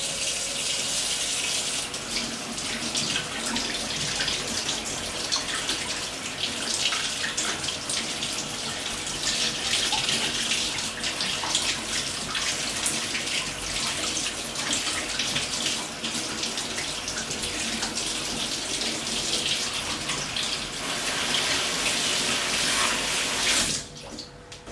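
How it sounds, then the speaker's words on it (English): Running tap water rinses the mesh filter from a bagless vacuum cleaner, a steady close splashing gush that continues without a break for about twenty-four seconds and then cuts off, with no voices. "Next we can rinse this mesh filter."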